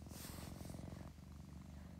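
A kitten purrs steadily and close up, a continuous rumbling purr running for about two seconds without any voices.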